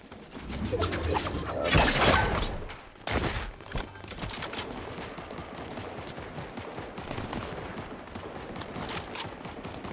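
Dense gunfire in a Fortnite trios match, with loud bursts of shots and crashes early on, then sustained rapid firing continuing steadily underneath.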